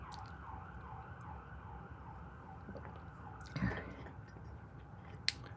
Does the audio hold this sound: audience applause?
no